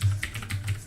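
Brief run of keystrokes on an Atari computer keyboard, a handful of close clicks in quick succession, heard alone.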